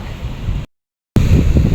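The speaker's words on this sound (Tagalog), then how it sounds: "Ay medyo mahangin laang po." Gusty wind blowing at a seashore where the waves are rough, a loud steady rush that cuts out abruptly for about half a second before returning at full strength.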